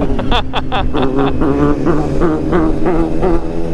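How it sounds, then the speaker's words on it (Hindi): A four-cylinder motorcycle engine revs loud and close, its pitch climbing and falling in repeated surges, with other bikes idling beneath during a group Sunday ride. "फोर सिलेंडर की आवाज़ सुना के"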